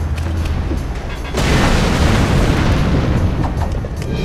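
A loud, booming blast of a firecracker explosion in the video game Mark of the Ninja, erupting suddenly after a short buildup and rumbling on steadily for several seconds with no talk.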